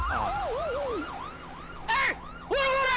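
A loud police siren wails in rising and falling sweeps, then switches to two short, harsh electronic blasts.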